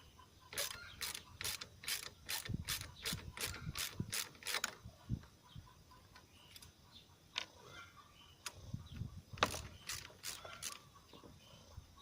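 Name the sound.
ratchet wrench removing screws from radiator fan support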